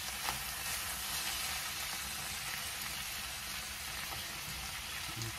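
Italian sausages sizzle and fry steadily in a pan, a dense continuous crackle close up with no talk.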